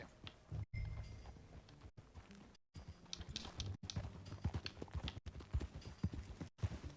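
Rhythmic hoof clops of a horse walking at a steady pace in Red Dead Redemption 2, crisp and close, with brief silent gaps between stretches.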